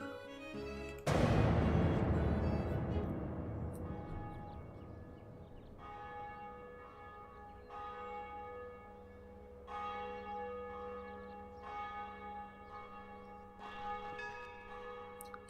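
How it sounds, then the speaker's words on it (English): Church bells tolling in the medieval strategy game Medieval II: Total War Stainless Steel, opening with a heavy booming strike that rings out and decays, followed by several spaced, fainter resonant peals. "The ominous sound of bells."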